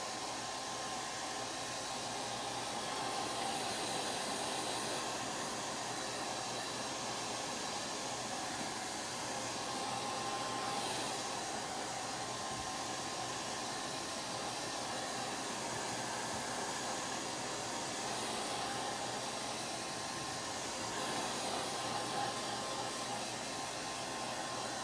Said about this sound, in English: So I'm going to hit it with a blow dryer